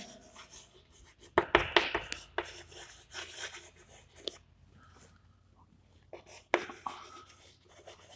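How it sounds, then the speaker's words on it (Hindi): A pen scratches out an address on paper in close, quiet strokes, with irregular bursts of scribbling and short pauses between words. "तो हम यहाँ पे लिखते हैं"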